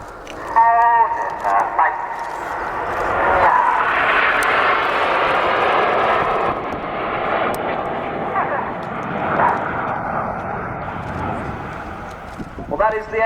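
Red Arrows display jets at the RIAT 2015 air show, slowing to around 150 mph at 6,000 feet, give a broad, swelling engine roar that rises and fades across the sky while a commentator talks over it.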